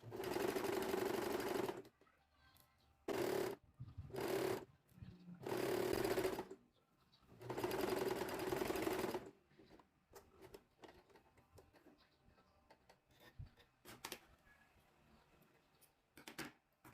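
A sewing machine stitches fabric in loud bursts of rapid mechanical whirring, some long and some short, separated by quiet pauses filled with faint handling clicks.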